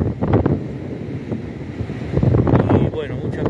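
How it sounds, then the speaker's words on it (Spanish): Sea waves wash onto the beach at Santa Teresita, a broad rushing surf blurred by strong wind buffeting the microphone, with rough gusts throughout. "el ruido del mar"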